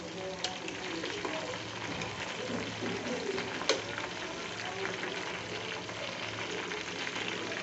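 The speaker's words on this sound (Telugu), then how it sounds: "ఇంకా బాగా వేగనిద్దాం." Herbs and leaves frying in hair oil in a pan, a continuous soft crackling sizzle with light stirring scrapes, close and steady for several seconds.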